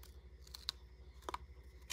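Scissors cut through a thin acetate sheet in a few short, crisp snips, faint and close with quiet background and no talking.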